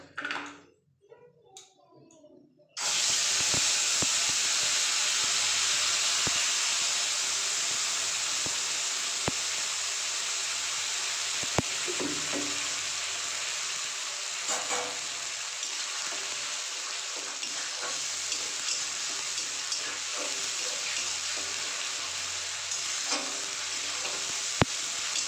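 Spice paste hits hot oil with cumin seeds in a pan for Bengali ghugni and sizzles loudly, a sudden burst of frying after a few quiet seconds, then a steady close crackle with occasional stirring clinks.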